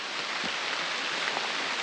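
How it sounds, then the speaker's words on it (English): Steady, dense hiss of heavy rain pouring down at Little Spar Lake, Montana, constant and loud throughout with no voices. "It is dumping rain."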